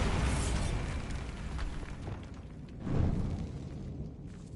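A Bombarda blasting spell goes off in Hogwarts Legacy, a broad rumbling blast that swells and then decays into a continuous roar, with no voices over it.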